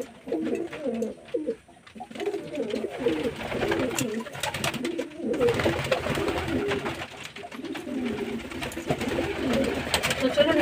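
Domestic pigeons in a loft on a hot, overcast day coo repeatedly, with soft, throaty, overlapping calls heard close by over light background rustling and movement.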